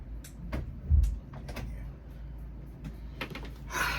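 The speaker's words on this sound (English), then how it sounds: "let me close the door" A door being pulled shut indoors, a short sequence of soft bumps and rattles with a firmer thud near the start, fairly close and quiet.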